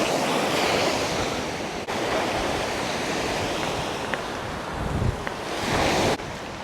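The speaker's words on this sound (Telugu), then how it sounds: "ఇక్కడ చూడండి జంగిల్ బీచ్ ఇటు." Ocean waves at Jungle Beach in Galle, Sri Lanka, roar steadily and close by as surf breaks continuously, with wind buffeting the microphone and a couple of brief thumps.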